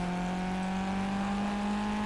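A car engine in a virtual driving simulator hums as the driver gets on the throttle, a steady, fairly quiet tonal drone with a low fundamental and a higher harmonic running evenly throughout, with no voices.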